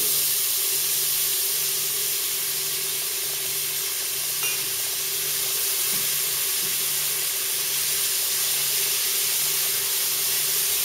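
Olive oil hisses and sizzles steadily in a pot while the base of a traditional Greek kakavia fish soup starts cooking, a continuous close, even frying hiss.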